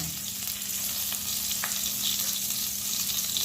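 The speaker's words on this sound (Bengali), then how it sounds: "2টো কাঁচা লঙ্কা এই তেলের মধ্যেই দিলাম এবং ওই তেলে আমি কিছুটা হিং দিলাম।" Green chillies and asafoetida crackling in hot oil along with cinnamon and cloves for an egg curry, a continuous close sizzle with a few faint clicks of a utensil.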